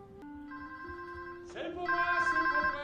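A telephone rings in a French animated cartoon, its electronic tones stepping through a short melodic ring that grows louder and pulses rhythmically near the end.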